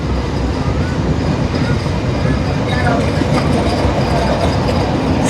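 The Banalata Express, a nonstop train from Dhaka to Rajshahi, passes through Saydabad railway station. A loud, steady rumble of wheels and carriages rolls on without a break, with faint clatter and squeal above it.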